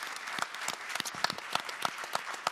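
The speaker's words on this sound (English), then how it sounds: "Let's give them a round of applause for sharing their thoughts with us today." Audience at a CeBIT China Summit panel discussion giving the panelists a round of applause, a moderately sized crowd clapping with distinct individual claps standing out at a steady level.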